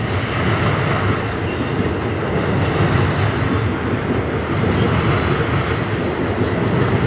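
A Norfolk Southern train passes close by in Fostoria, Ohio, producing a loud, continuous rumble and roar of rolling railcars that holds steady throughout.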